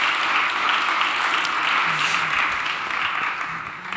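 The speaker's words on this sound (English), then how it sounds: "one more round of applause" An audience claps for panel guests at a faith-oriented conference session, a steady wash of applause that holds for several seconds and then begins to taper off.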